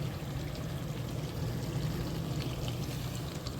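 Water trickles and drips from a leaking Samsung DW80M9550UG dishwasher onto the floor, a steady close wash of splashing with no break and no talking.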